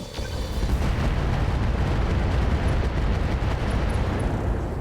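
Mech weapons firing in the RogueTech BattleTech video game, a dense, sustained roar of booming blasts and explosions that stays loud and continuous throughout.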